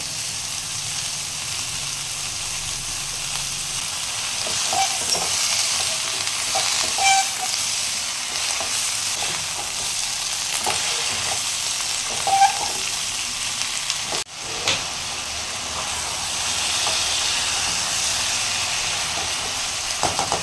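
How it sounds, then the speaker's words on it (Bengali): Green chillies and onion frying in ghee, a steady close sizzle with occasional stirring clatters and small pops throughout, no one speaking. "এবার আমি ঘিয়েটার সাথে দিয়ে নিচ্ছি এখানে কাঁচা লঙ্কা আর দিয়ে দেবো এখানে পেঁয়াজটা"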